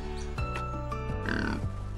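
A babirusa, the wild pig native to Sulawesi, Indonesia, gives several short grunting and squealing calls in quick succession, close and fairly clear over a steady background.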